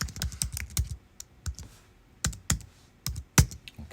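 Computer keyboard typing in short irregular bursts of clicky keystrokes, close and fairly quiet, with brief pauses between clusters and no talking.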